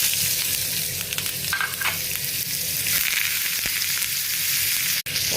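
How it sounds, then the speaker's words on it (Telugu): Ginger, onion, curry leaves and green chillies drop into hot oil with fried chana dal for upma, giving a loud, continuous crackling sizzle with occasional stirring scrapes, close by and with no speech. "ఇదిగోండి అల్లము, ఉల్లిపాయ, కరివేపాకు, పచ్చిమిరపకాయలు అన్నీ ఇప్పుడు వేసుకుందామండి"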